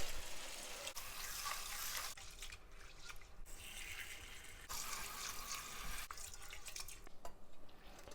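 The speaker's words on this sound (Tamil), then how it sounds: "இப்போ புது தண்ணி ஊற்றுறோம்." Fresh water poured over urad dal in a vessel, a steady low splashing and trickling stream that pauses and resumes a few times, with no talking.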